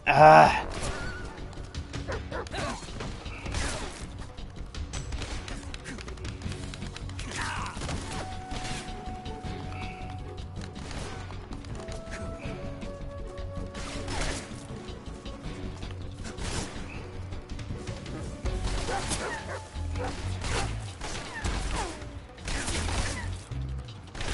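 Dogs bark and yelp in Metal Gear Solid Delta: Snake Eater, scattered through busy game sounds with mechanical clatter and a crash, alongside occasional speech.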